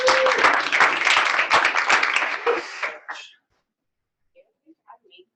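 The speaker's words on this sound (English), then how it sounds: "let's give Jamie G a big round of applause" An audience at a real estate team meeting gives Jamie G a round of applause, a dense burst of clapping with some voices mixed in that fades out after about three seconds, leaving near silence with a few faint scattered sounds.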